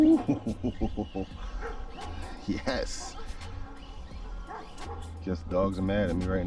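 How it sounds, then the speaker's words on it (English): Dogs bark in short repeated bursts near an RC car run with a Team Corally Kagama, mixed with whimpering yips and someone talking over them. "Guess dogs are mad at me right now."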